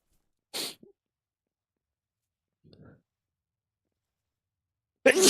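A single sharp sneeze bursts out near the start, a faint murmur follows mid-clip, and another loud burst of sound hits at the very end.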